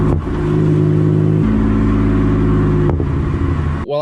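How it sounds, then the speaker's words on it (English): A 2002 Mercury Cougar engine idling loud and close, blipped on the throttle with a rise in revs and a sharp exhaust pop near the end. "whenever I let out on the throttle and just give it a blip, gives you a nice little pop"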